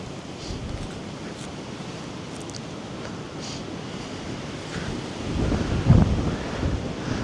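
Strong wind blows outdoors on an overcast day in Bardo, a steady rushing roar with gusts buffeting the microphone and swelling louder toward the end, with no voices.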